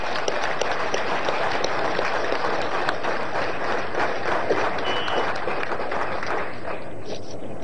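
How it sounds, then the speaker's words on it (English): Audience at an East African leaders' retreat giving a warm round of applause to President Yoweri Museveni, the host, with dense, loud, continuous clapping filling the hall from start to finish. "let's give a very warm round of applause to President Yoweri Museveni, our host"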